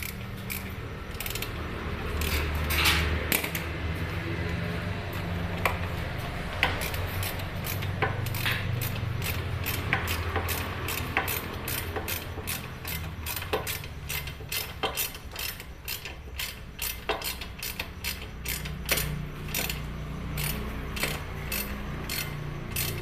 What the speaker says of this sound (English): With the help of 5 mm Allen key.